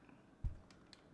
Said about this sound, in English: that's a clean ass ringtone